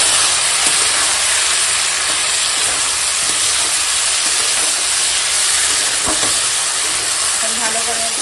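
Taro and fish fry with chili powder, turmeric and salt in a hot pan while being stirred, giving a steady, dense sizzle and hiss throughout, with a few faint scrapes of the stirring utensil near the end.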